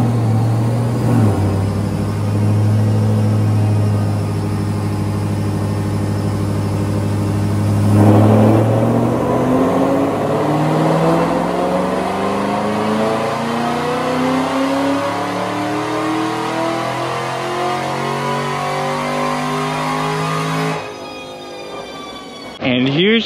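A supercharged 1,000 horsepower Camaro SS engine revs loud and close, climbing steadily in pitch over a sustained pull, with a brief drop midway and a sharp cutoff near the end.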